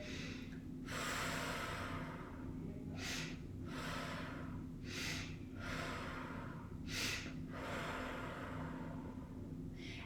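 Slow, deliberate breathing exercise, with several long airy inhales and exhales repeating in a steady rhythm, close and fairly soft, with no talk.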